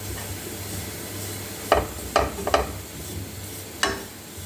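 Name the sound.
stirring and frying kunafa dough in a pan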